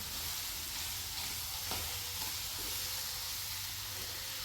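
Mango pickle being stirred in hot oil with mustard seeds and dried red chillies, a steady close sizzle and hiss with a few soft scraping stirs, no talk over it.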